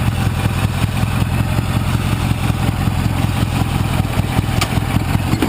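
A Gilson lawn mower engine running in first gear, a steady close-up chugging drone with rhythmic mechanical clatter that holds an even level throughout.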